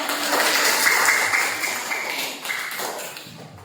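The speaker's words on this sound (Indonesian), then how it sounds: "Tepuk tangan untuk Zidan." Students in a classroom clap for a classmate after his presentation, a brief burst of applause that thins out toward the end.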